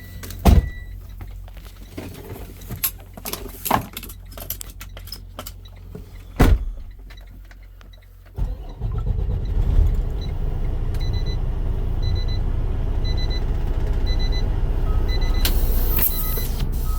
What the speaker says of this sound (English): I have to move the truck because wheel choke is stuck.